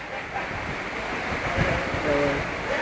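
A swollen river in Curepe roars past at flood level in 2013, a dense continuous rush up close, mixed with wind noise and a voice speaking over it.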